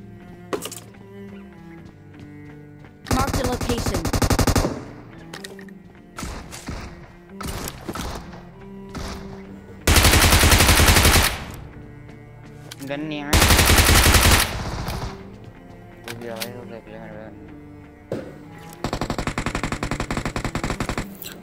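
Gunfire rattles through a fight in PUBG Mobile, with loud bursts of automatic fire that come in several separate volleys, broken by quieter thuds and game sounds.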